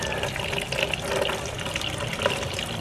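Tap water runs steadily over a plant's stem and roots as they are rinsed, a continuous close splashing gush with no voices.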